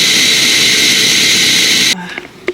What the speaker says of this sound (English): let me blend this all together